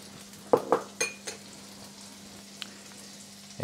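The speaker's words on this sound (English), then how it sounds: "And now we can go back in with a little bit more butter and make sure it's nice and foamy" Butter foaming in a pan for French toast, a few sharp sizzling crackles and clinks early on, then a soft steady fry hiss with a faint electrical hum beneath, no talking.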